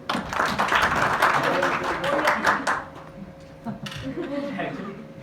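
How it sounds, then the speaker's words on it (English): People attending an interpersonal skills masterclass clap for a participant, a loud burst of scattered clapping that fades after a few seconds into quieter room sounds. "can you clap for him?"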